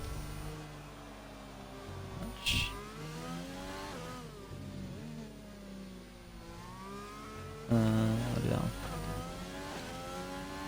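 A race car engine in a Spain track session whirs and revs steadily at moderate level as the driver begins a lap, with a brief sharp burst near the start and a louder surge late on.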